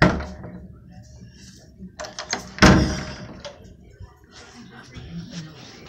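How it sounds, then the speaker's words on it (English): A home garage door closing, a mechanical rumble with rattling clanks and a sharp bang midway, fairly close, over a low background hum. "closing the garage door"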